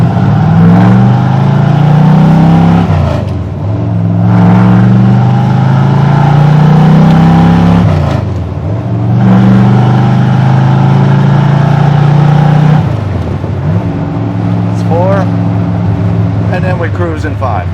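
A 1970 Ford Mustang Fastback engine revs up in low gear on an uneven road, pitch climbing and dropping in repeated pulls between shifts, loud and close from inside the car, with someone talking over it.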